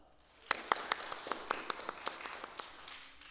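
A small audience claps for Lori's mozzarella at a casual community show, a sparse round of distinct hand claps that starts suddenly and thins out over a few seconds.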